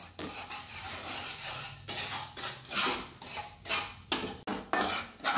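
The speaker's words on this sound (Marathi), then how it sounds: "बाजरीचं पीठ आहे ना त्या तुपामध्ये खसखशीमध्ये आणि जिऱ्यामध्ये मिक्स करून घ्यायचं आणि चांगलं लाल होईपर्यंत भाजून घ्यायचं" Bajra flour is roasted in ghee with poppy seeds and cumin in a pan, with a spoon steadily scraping and stirring, giving repeated soft metallic rasps and taps, close and fairly quiet.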